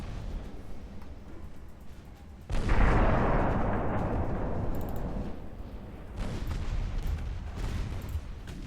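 Naval gunfire in Ultimate Admiral Dreadnoughts: a heavy broadside boom erupts, then a long rumbling roar with further distant salvos rolling underneath, loud and sustained.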